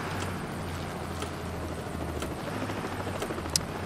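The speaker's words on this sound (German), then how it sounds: "Der Helikopter ist gelandet." A helicopter in the video game Bus Driver, on a prisoner transport run with police escort, flies with a steady rhythmic rotor thump and whine, continuous and fairly loud, with no talking.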